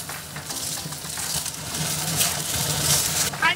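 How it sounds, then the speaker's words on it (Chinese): Tomato puree stir-fried with shallots and onions in hot lard, a close, steady sizzle broken by the scrape and stir of a spatula, with no speech. "番茄炒制的过程也有耐心慢慢的翻炒，让番茄的化成番茄汁"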